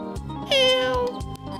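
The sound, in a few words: cat meowing in the video game Discounty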